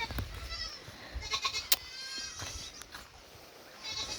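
Goats bleat a few times in a pen while steady rain patters around them, the calls faint and somewhat distant over the constant wash of falling water.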